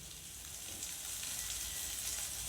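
A thickening almond and sugar burfi mixture is stirred in a pan, giving a soft, even sizzle with faint bubbling, quiet and close, unbroken for a couple of seconds with no voices.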